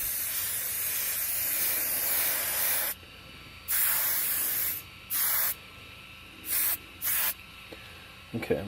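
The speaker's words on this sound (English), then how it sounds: "I spray hairspray on the bed where I'm going to print" Hairspray is sprayed in five or six short hissing bursts onto a 3D printer bed. The first spray is long and sustained, and the later ones are brief and separated by quiet gaps, with a faint click at the end.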